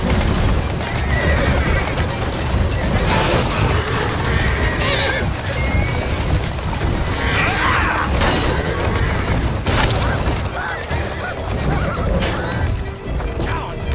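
Horse-drawn carriages in Assassin's Creed Syndicate: horses neigh and whinny over clattering hooves and rattling wheels, with crashes and bangs as carriages take damage, all under game speech.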